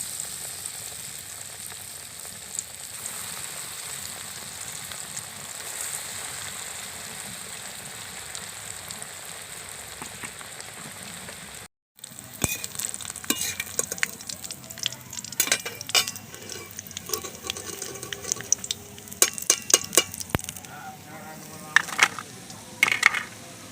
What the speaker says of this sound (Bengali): দেখুন কত সুন্দর আওয়াজ হলো। বাকিগুলো আমি একই রকম করে ভেজে নেব।